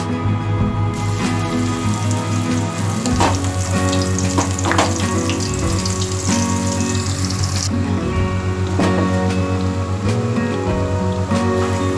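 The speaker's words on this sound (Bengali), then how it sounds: "পেস্টটাকে আমি তেলের মধ্যে দিয়ে দিচ্ছি।" A ground spice paste for a coconut soybean curry hits hot oil, giving a dense, loud, rain-like sizzle that holds steady, with a few utensil clinks partway through.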